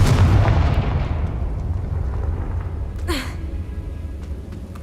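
Confringo blasting spell in Hogwarts Legacy, a loud booming explosion that opens the clip and rolls away into a long fading rumble, followed by a brief whooshing magical effect.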